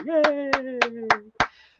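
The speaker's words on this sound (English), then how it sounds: "when I clap, hear all of their thunderous applause." A single person clapping hands, about five sharp, evenly spaced claps close to the mic while a voice sustains a sung or spoken tone underneath, ending with a short voice onset.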